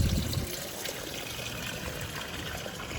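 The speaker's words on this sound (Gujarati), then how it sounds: "બાકી આ બાજુ હાલે છે આપણું પાણી." Water flows along a small channel on a rural property, a soft continuous trickling and gurgling wash, faint and steady with no voices.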